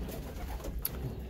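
Racing pigeons coo softly inside a loft, a brief low murmuring under faint background hiss, quiet and close with no speech.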